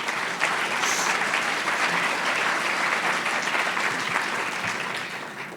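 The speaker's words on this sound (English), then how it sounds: "So give yourself a round of applause" A conference audience of community service workers bursts into sustained, dense applause. The loud, steady clapping fills the room and tapers slightly toward the end.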